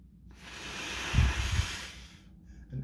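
A single deep, steady breath during a breathing exercise, airy and close, swelling over about two seconds and then fading, with no talk.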